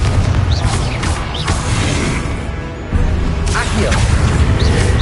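Booming spell blasts and whooshing effects from the video game Hogwarts Legacy on PS5, layered over continuous dense game sound with a loud burst around the midpoint.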